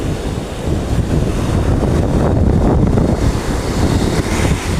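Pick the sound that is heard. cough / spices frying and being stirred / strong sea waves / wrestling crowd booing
strong sea waves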